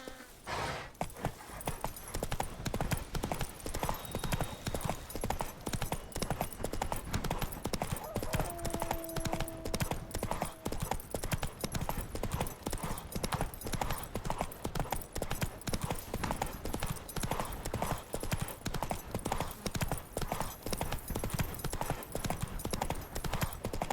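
Roach the horse's hooves in The Witcher 3, a steady, rapid clip-clop repeating evenly throughout at close range, with faint ambient tones underneath.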